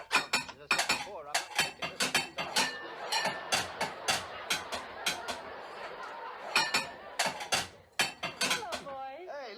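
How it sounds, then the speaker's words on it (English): Dishes and silverware being stacked as a radio-play sound effect after a Christmas dinner, with repeated clinks and clatters of plates and cutlery, close and fairly loud, continuing steadily throughout. "will you help me with stacking the dishes?"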